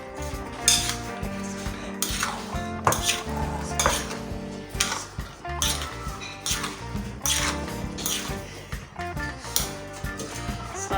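Boiled potatoes being mixed into Russian salad in a bowl, with a spoon repeatedly clinking and scraping against the dish in a steady, busy stirring rhythm, close and fairly loud throughout with no talking.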